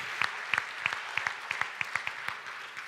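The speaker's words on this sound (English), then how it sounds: "We could have a little applause for that." A small audience at a South Dakota Synod ELCA church gathering claps briefly, with distinct, fairly sparse handclaps in an uneven rhythm, somewhat distant and modest in volume.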